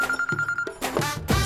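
In a cartoon, a telephone rings in quick repeated electronic trills, close and fairly loud, with short gaps between bursts.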